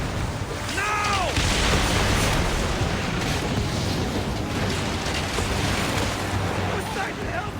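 Ship weapons firing on an armada in Assassin's Creed Origins: loud booming blasts and rumbling artillery-like fire over a dense battle din, with shouted voices early and near the end.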